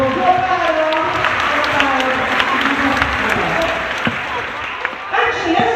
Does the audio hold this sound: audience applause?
yes